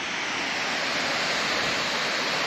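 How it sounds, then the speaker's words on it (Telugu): Ethipothala waterfall with heavy flow dropping about 70 feet, a loud, dense, continuous roar of falling water filling the whole clip without letup. "వాటర్ చాలా ఎక్కువ పడుతున్నాయి."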